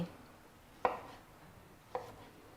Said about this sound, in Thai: แล้วก็หั่น ขิงไว้เลย